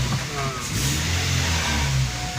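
A Toyota Vios engine with a throttle body problem holds a fairly loud, steady mid-range rev, sounding close and continuous, with a voice briefly speaking over it.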